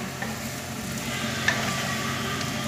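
Chicken fry sizzles in a pan while being stirred, a continuous close crackle with scraping spoon strokes and one sharper clink, no voices.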